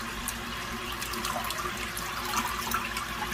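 Water pours steadily into an Aquaclear 70 aquarium filter, a continuous close splashing trickle with no pauses and no talk.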